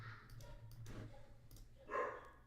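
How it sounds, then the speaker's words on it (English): A goldendoodle barks a few times in short, separated bursts, moderately close, with a low hum underneath and no talking. "What's my golden doodle barking at?"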